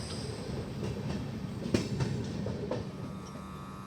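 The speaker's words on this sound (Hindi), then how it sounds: "यहाँ पे कोई तो एक्सप्रेस ट्रेन पास हो रही है" An express train passing on an adjacent line, heard from inside another train as a distant, steady rumble with faint rhythmic wheel clicks, low in level and without talk.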